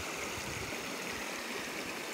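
A reddish, iron-rich river rushes through a rocky gorge near Pola de Laviana in Asturias, giving a steady, broad, close wash of flowing water with no voices.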